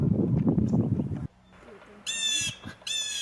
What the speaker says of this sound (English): You can hear the blue jay.